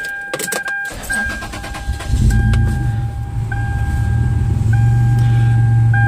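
A Toyota 4Runner's engine cranks and catches after a few dashboard warning chimes, then settles into a loud, steady idle close by.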